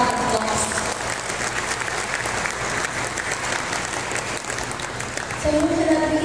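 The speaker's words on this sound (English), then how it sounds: "And let's give them these people a round of applause." An audience at a Riway company event applauds steadily with dense, sustained clapping throughout, near and loud, swelling slightly toward the end.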